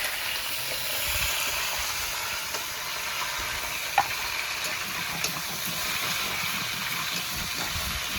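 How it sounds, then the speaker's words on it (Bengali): Raw mango pieces fry and get stirred in a pan for a pickle, giving a steady soft sizzle with occasional scraping clicks, fairly quiet and continuous without speech. "আমগুলোকে ভালো করে নেড়ে চেড়ে ভেজে নেব।"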